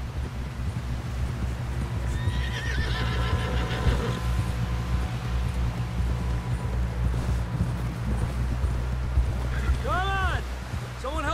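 Hooves clip-clop rhythmically as a horse moves in the Red Dead Redemption 2 video game, with a whinny near the end, over a low droning background.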